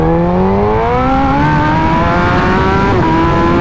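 A 2008 Suzuki GSX-R 1000 sportbike fitted with velocity stacks and a new fuel pressure regulator pulls hard, its engine note climbing steadily in pitch with a brief dip near the end, loud and close throughout.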